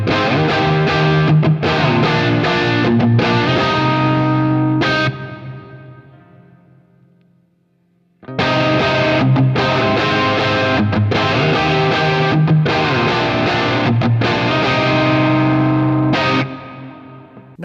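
An electric guitar played through a UAFX Heavenly Plate reverb pedal in mono rings out in two loud, sustained strummed passages, the first fading into a long reverb tail before the second begins and then decays.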